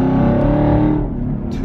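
2017 Chevrolet Camaro SS V8 engine, a deep, loud rumbling drone heard from inside the car that holds steady and then eases slightly toward the end.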